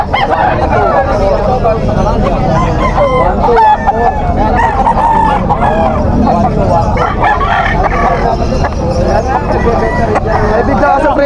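A Hatch Gray gamefowl rooster crows at a busy pet market in Malabon. The crowing is loud and repeated over dense crowd babble and other poultry calls, and people talk close by throughout.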